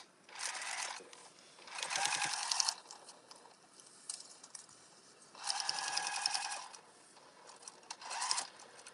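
Sewing machine stitching darts on a fabric microwaveable bowl cozy, several short bursts of close, quick mechanical whirring separated by quiet pauses.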